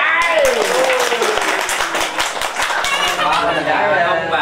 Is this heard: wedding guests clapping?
yes